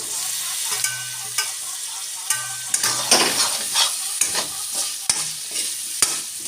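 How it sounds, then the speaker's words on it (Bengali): Carrots, beans and peas are stirred and fried in a pan for veg pulao. Repeated scraping strokes of a spatula sound close and regular over a soft sizzle, with no one speaking. "বিনস মটরশুঁটি একটুখানি নেড়ে নেব এবার বিনস মটরশুঁটি একটুখানি নেড়ে নিয়ে এর মধ্যে জল দিয়ে দেবো"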